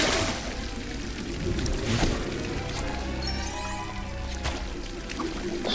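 Water rushes and splashes steadily in LEGO Harry Potter, a constant hissing flow with a few sharper splashy bursts and game effects layered on top.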